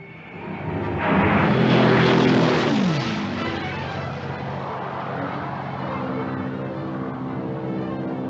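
Planes are catapulted off an aircraft carrier flight deck, one engine roaring up loudly and sweeping past, then a steady propeller drone that lingers at a distance as other aircraft keep running.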